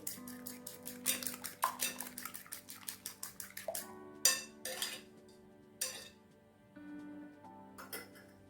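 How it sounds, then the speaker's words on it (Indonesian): Egg yolks whisked in a bowl for a Japanese cheesecake: quick, regular clinking strokes in bursts with short pauses, close and crisp, over faint steady background music. "Setelah itu masukkan kuning telurnya, kita kocok lepas dulu."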